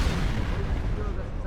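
Continuous loud gunfire and booming artillery from the war shooter video game Sniper Ghost Warrior 2, a dense rumbling barrage with no clear gaps, mixed with in-game voices.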